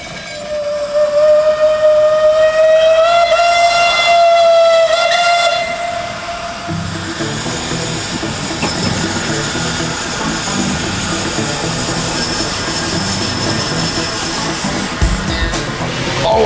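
A steam cog railway engine's whistle blows loudly for several seconds on the Mt. Washington Cog Railway, then gives way to the chugging, rumbling clatter of the engine and cars moving along the track.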